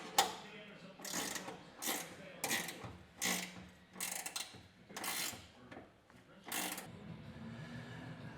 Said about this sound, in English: Now I've just got to tighten this one up.